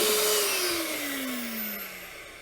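A vacuum cleaner runs with a steady whine that slowly drops in pitch as it winds down, fading slightly toward the end.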